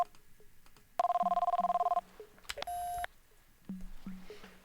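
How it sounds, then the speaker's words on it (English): Phone ringing in The X-Files Game: a bright electronic trill rings for about a second, followed by a shorter steady beep tone, with quiet soft clicks and background room tone around it. "Oh, I have a phone call."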